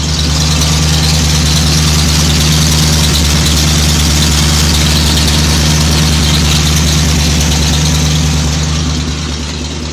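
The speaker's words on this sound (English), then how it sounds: "Only real add-on is the temperature gauge and fuel gauge. Fires up on the first turn." A 1988 Ford Bronco's V8 engine idles steadily and close by, with a deep, continuous rumble and a slight knock, alone and without talk.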